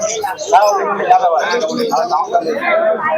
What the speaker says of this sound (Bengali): এখানেও কিছু গিরিবাজ কবুতর এনেছে